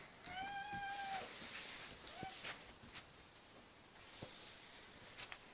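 A cat gives one clear, drawn-out meow early on, followed by a short, fainter chirp-like meow, with quiet room noise and a few soft taps around it.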